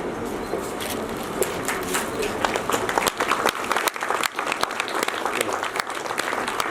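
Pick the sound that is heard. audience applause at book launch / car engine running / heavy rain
audience applause at book launch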